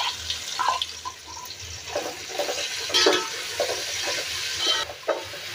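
Chopped onion sizzles and crackles in a hot pan for paneer pulao, bursts of frying hiss rising and falling as it is stirred, close and moderately loud with no talk.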